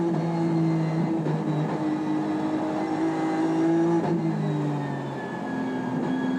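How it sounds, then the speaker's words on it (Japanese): Onboard 1995 JGTC race car engine at Suzuka revving high and steady, pitch climbing and dropping with gear shifts from third to fourth, loud and continuous from inside the car. "耳かっぽじってエンジン音を聞いてよね"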